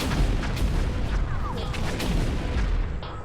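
A ship's cannon blasts on a gun deck film set, heavy booming reports layered with dense rumble and clatter, loud and close, filling the whole stretch without a break.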